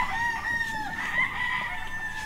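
Chickens on a farm, a rooster crowing in long drawn-out calls over soft clucking, fairly close and with no talk.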